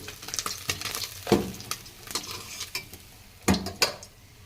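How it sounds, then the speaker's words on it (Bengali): Small puti fish fry in hot oil in a pan, a gentle sizzle punctuated by clinks and scrapes of a spatula as the fish are turned and lifted out. "বাকি মাছগুলো ভাজা হয়ে গেছে, আমি নামিয়ে নেব।"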